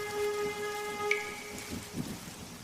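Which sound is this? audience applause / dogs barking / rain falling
rain falling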